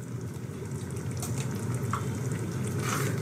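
Spoon stirring masala corn sabzi in a hot pan, a steady close sizzle with soft scraping running without a break and no voices.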